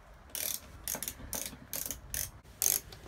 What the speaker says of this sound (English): 4 screws. Just take them out.